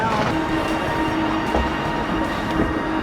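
Steady rumble of a TransPennine passenger train heard from inside while riding in first class, a continuous low drone with faint rail noise and no talking.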